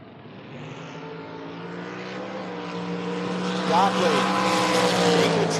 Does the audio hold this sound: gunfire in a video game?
no